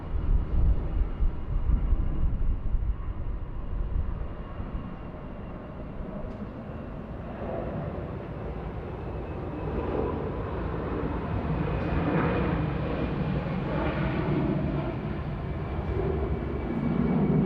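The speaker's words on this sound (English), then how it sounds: "here she comes. Myanmar A319, very nice." A Myanmar Airways Airbus A319 at Bangkok airport makes a broad, steady engine roar at a moderate distance, swelling and falling gently as the jet passes, with no talking.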